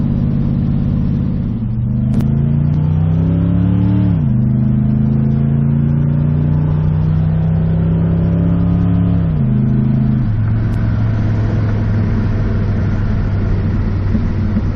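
A 1969 Ford Mustang engine pulls steadily while driving, a loud, close rumbling drone that rises in pitch as it accelerates, drops with each gear change, then climbs again, heard on its own with no talking.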